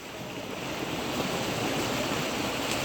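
A large surge of water rushes past steadily, a broad continuous roar like a flooded stream or overflow from a big pipe, loud and close without pause.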